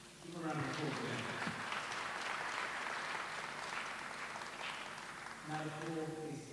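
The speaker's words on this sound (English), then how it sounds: "Give a round of applause for them." A workshop audience applauds steadily for several seconds after four business people are introduced, with voices audible just before the clapping swells and again as it fades.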